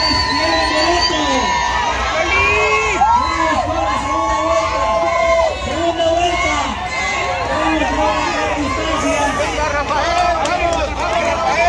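A crowd shouts, whoops and cheers continuously at a waiters' race in San Pedro Tlaquepaque, with many overlapping voices, children's shrieks and an announcer talking over the loud, dense din.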